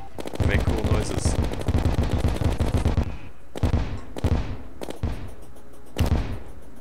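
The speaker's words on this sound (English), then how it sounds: "I'm gonna use these exploding bullets now." Exploding bullets firing in the video game Terraria, a dense rapid stream of loud gunfire bursts followed by several separate booming shots, with a voice talking underneath.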